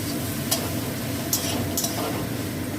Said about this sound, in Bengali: ধনে, জিরে, এইটা দিয়ে এবার আমি আবার কষবো।